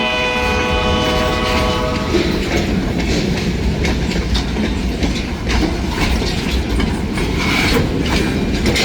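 A freight train rumbles steadily past close by, wheels clattering along the rails, with a horn sounding in the first couple of seconds.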